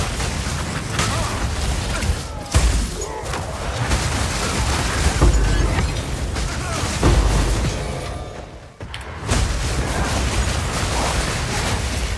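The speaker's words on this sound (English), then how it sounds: "The chain explosions are so incredibly satisfying on this build," Chain explosions and a lightning storm in Path of Exile 2, a monk build blasting enemies: dense, loud, continuous booms and crackling bursts layered over one another with only a brief dip.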